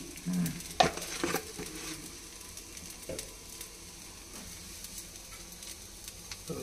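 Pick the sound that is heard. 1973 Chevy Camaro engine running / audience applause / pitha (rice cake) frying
pitha (rice cake) frying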